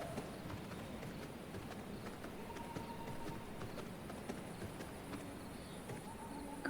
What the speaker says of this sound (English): Couple horses over there.